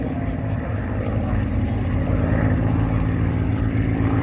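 A Supermarine Spitfire Mk IX flies at an airshow, its piston engine and propeller giving a steady, throaty drone with a faint pulsing quality, loud and continuous.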